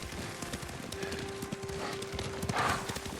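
Horse hooves clip-clop in the video game Ghost of Tsushima, a steady rhythmic trot of moderately loud hoofbeats over a continuous low outdoor ambience with a faint sustained tone.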